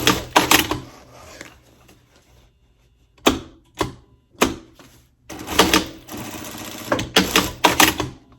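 A sewing machine stitches a ripplefold curtain header with buckram in short, separate bursts, each run of clattering needle strokes loud and close and broken by brief pauses.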